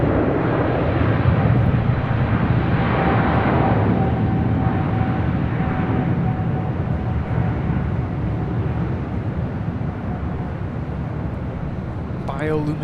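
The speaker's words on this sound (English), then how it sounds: "Korean Air Cargo, the 777 freighter now rolling down at 25 right" Korean Air Cargo Boeing 777 freighter taking off down runway 25R at LAX, a steady broad jet engine roar that holds loud throughout, with people talking over it.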